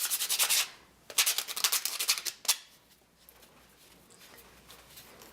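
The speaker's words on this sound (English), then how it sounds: "I'm going to just take some sandpaper to this just to even it out a little bit" An old sanding disc rubs back and forth along a wooden chopstick, giving close, rasping bursts of scraping strokes for about two and a half seconds, then fading to near quiet.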